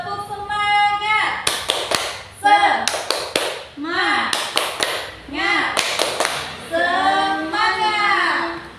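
A classroom of children chanting and clapping in unison for a spirit clap, sharp hand-claps falling in quick rhythmic bursts between loud group vocal calls, close and energetic.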